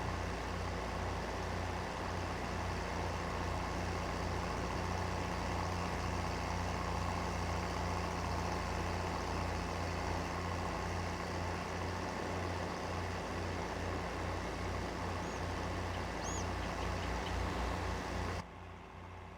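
A tractor in Farming Simulator 22 drives toward town with a steady, continuous engine drone and rumble held at an even loudness, cutting off abruptly near the end.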